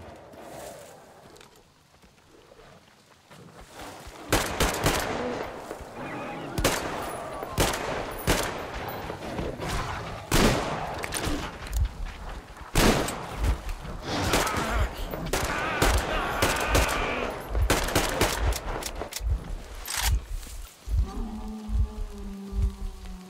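Gunfire in the shooter game Metro Exodus: a long stretch of rapid, dense shots and bursts, some sharp single cracks, loud and continuous throughout with noisy background rumble.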